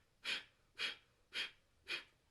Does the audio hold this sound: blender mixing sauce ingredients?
no